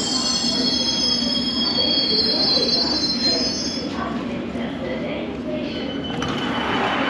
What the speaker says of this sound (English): Hammersmith City Line here.